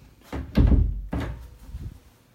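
A car door is opened and shut, giving two solid thunks close by: a softer one, then a heavier slam about half a second later with a short rattle after it.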